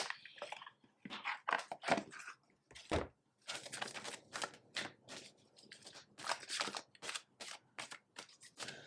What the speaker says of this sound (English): Let me draw some astrological cards now.